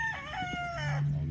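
A game fowl rooster crows once, close and clear, its call rising and then drawn out, with a low hum beneath it and no talk.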